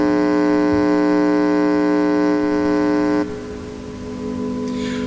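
A steady electronic hum from an Aura ghost box drones loudly and evenly with layered harmonic tones, then drops abruptly to a quieter, hissier tone partway through, with no talking.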